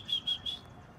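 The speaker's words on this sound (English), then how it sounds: "Okay, so there's a bird that is really stuck down there." A small bird trapped down in a hole gives three short, high chirps in quick succession, faint and somewhat distant against a low background rumble.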